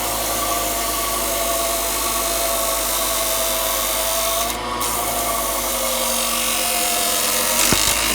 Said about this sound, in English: with the sanding disc, actual major shaping and taking away of wood